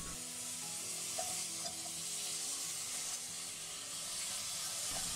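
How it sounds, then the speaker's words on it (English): Meat frying in a pan with softened onions and garlic for pie filling, a quiet, even sizzle and hiss with a few light stirring clicks, continuous and without speech. "Now you can add the meat to the pan."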